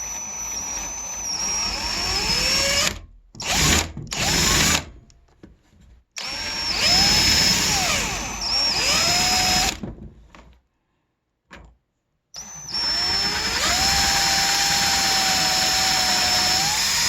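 A power drill bores with a larger bit during a vintage Trek single speed bicycle conversion, whining loudly in several long bursts with rising and falling pitch as the motor spins up and slows, separated by brief pauses.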